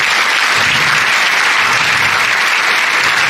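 A school event audience bursts into loud, continuous applause, a thick wash of many hands clapping steadily from start to finish without any talking.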